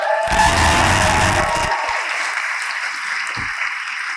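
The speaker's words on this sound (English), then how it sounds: "Give them a round of applause." Loud applause from a crowd at a university debating society debate, with a few cheers mixed in, steady throughout and gradually easing toward the end.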